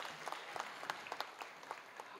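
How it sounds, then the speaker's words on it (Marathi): Applause from the audience after a kirtan, a quick scatter of crisp claps at moderate distance filling the short stretch with no talk over it. "कविराज महाराज झावरे यांनी झणझणीत कीर्तन केल्याबद्दल एकदा तणतणीत टाळ्या वाजायच्या."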